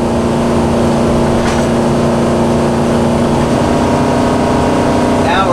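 Gas RV engine pulling up a hill at about 45 mph without downshifting, a steady loud drone and road rumble filling the cab throughout, with a faint voice.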